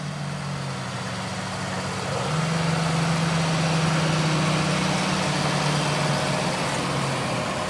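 A John Deere 8130 tractor pulling a 1770 NT 16-row corn planter across a field at dusk, its heavy diesel engine droning steadily nearby and rising in pitch and loudness partway through as it works the headland.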